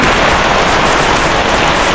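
Heavy rain falls steadily, a loud, unbroken broadband hiss with no pauses and no voices.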